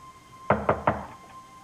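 Three firm knocks on a door, evenly spaced and fairly close, with a quiet room tone before and after and no talking.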